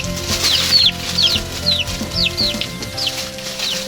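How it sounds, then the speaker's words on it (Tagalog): Chickens cluck repeatedly close by in short choppy bursts, with a steady low hum of the surroundings underneath. "Kulit ng mga manok eh."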